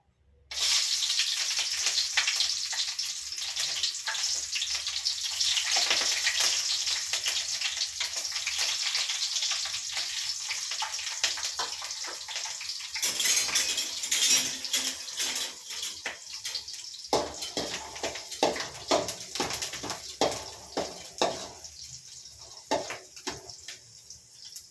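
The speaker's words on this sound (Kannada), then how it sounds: "ಎಣ್ಣೆಯಲ್ಲಿ ಫ್ರೈ ಮಾಡಿಕೊಂಡ್ರೆ ಅದು ಖಾರ ಎಲ್ಲ ಬಿಟ್ಟು ಫ್ರೈ ಮಾಡ್ಕೊತಾ ಇದ್ದೀನಿ" Chillies frying in oil for egg fried rice make a long, steady hissing sizzle with scattered crackles and pops, close by and continuous, without any talk.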